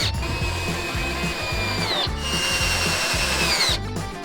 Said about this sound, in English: we insert a board into the rectangle and fix it as a strut